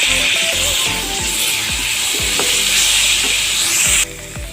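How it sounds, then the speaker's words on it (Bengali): Onion frying in a pan with ginger garlic paste stirred in, a loud close sizzle under rhythmic scraping strokes of a spoon against the pan, the hiss dropping off abruptly at the end. "পেঁয়াজটা হালকাভাবে ভেজে নিতে হবে।"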